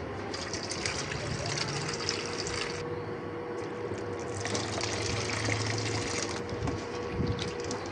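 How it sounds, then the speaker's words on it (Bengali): Chickpea lentils and eggs being washed by hand in water in a home kitchen, a steady running, splashing wash that continues throughout with small rises and dips. "ডিমগুলো আর ডাউল নিয়ে নিয়েছি, এগুলো এখন আস্তে আস্তে ধুয়ে পরিষ্কার করে নিব"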